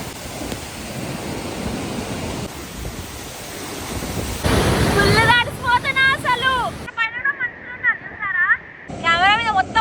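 Roar of Niagara Falls at Bridal Veil Falls, a loud, dense rush of falling water and spray close to the microphone for several seconds, then a voice talks over the continuing roar.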